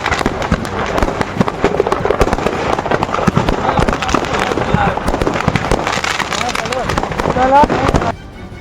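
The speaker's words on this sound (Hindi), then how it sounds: "धीरे धीरे ट्रक में लदे पटाखे चलने लगे" Firecrackers loaded in a truck go off in a dense, continuous barrage of sharp cracks and pops, loud and close, with shouting voices mixed in and the bursts dropping away abruptly at the end.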